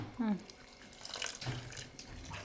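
Water trickles and splashes faintly, as if being poured, quiet and close, with a few muffled background sounds.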